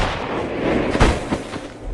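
Gunfire in the 2010 action film Faster: three sharp, booming shots crack out in quick succession over a dense, rumbling movie soundtrack.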